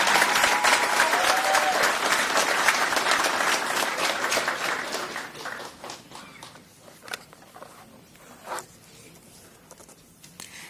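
An audience at a county public safety awards ceremony applauds 911 center staff, a loud dense burst of clapping that thins out after about five seconds into a few scattered claps.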